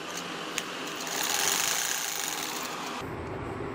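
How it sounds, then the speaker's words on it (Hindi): A sewing machine stitches a mohri design, giving a steady, fast mechanical rattle that runs continuously at low level, with a small click near the start and a slight easing toward the end. "और अब हम इसको सिलाई लगाएंगे।"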